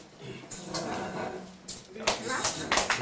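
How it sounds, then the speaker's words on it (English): Scattered clapping from an academic research conference audience, starting sparse and growing into louder bursts, heard under ongoing talk. "We clap."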